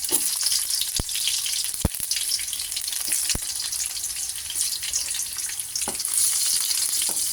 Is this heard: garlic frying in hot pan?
yes